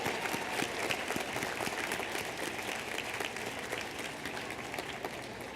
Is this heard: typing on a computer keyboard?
no